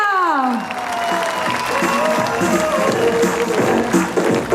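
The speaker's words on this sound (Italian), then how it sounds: "L'applauso della città di Canosa!" Applause from the audience of Canosa at a dance show, a dense wash of clapping and crowd noise with music fading out at the start, steady and fairly loud throughout.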